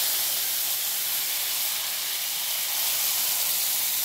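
Water mixed with chilli, turmeric and cumin powder is poured into hot oil with fried nigella seeds for a hilsa curry. It gives a loud, continuous, close steam hiss and sizzle that holds steady throughout.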